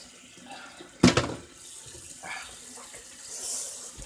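Running tap water while greasy dishes are washed in a sink: a sudden splash and clatter, then a low continuous water flow with soft scrubbing and handling noises.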